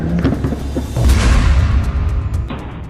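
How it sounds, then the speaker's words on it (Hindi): A deep, heavy boom rolls in after a brief rumble from an Israeli tank exploding, followed by a sustained low roar and debris-like crackle fading out. "जो धमाका है उसमें न सिर्फ इजराइल का टैंक फट रहा है"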